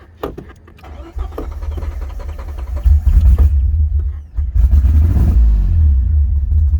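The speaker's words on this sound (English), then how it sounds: "let me give her a little gas." A 1981 DeLorean engine revs loudly close by, with a throaty low rumble that surges and swells in repeated bursts of throttle over a steady running engine, with no voices.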